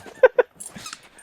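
A young three-legged pit bull gives two short, close whimpering yelps followed by softer whines and snuffles.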